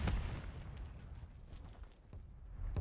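A video-game grenade goes off as a sudden low boom at the start, then a faint rumbling tail and scattered distant pops, all fairly quiet.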